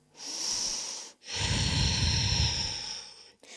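Audible breathing during a morning yoga pose: a long, close, hissing breath, a short pause, then a second, longer exhale with a snorting, airy quality.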